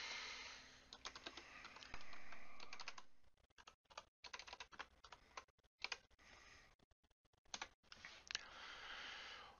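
Rapid computer keyboard typing, close and crisp, in quick bursts of clicks broken by short pauses, with no talking.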